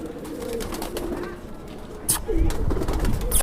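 Kalpare Madrasi pigeons, a male and female pair, cooing close by in low repeated calls, with a couple of sharp rustling bursts partway through.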